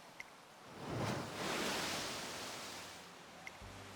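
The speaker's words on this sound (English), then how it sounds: "The waves crash rhythmically on the beach beneath a reddening sky." Ocean waves wash onto a beach under a reddening sky in the Umamusume Pretty Derby video game, a steady broad surf rush swelling and fading across the clip, with faint chime-like ticks near the start and end.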